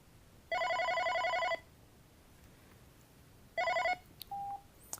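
OpenStage 40 desk phone ringing with an incoming call, a loud electronic trill burst lasting about a second, then a pause and a second shorter ring, followed by faint beeps.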